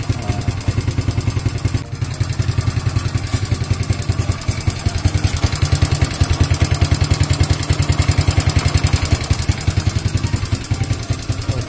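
An Evo Z motorcycle engine idles while warming up, a loud, close, steady rapid thumping pulse that holds an even rhythm throughout, with no talking.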